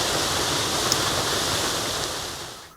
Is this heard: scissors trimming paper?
no